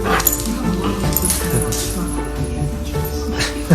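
A dog yips, whimpers and barks in a playing video of a dog seeing its puppies, with people talking over it throughout.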